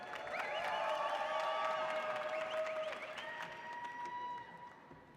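Audience applauding graduates at a 2025 Heinz College hooding and diploma ceremony: sustained, dense clapping from a large crowd with a few scattered cheers, swelling early and then gradually tapering off.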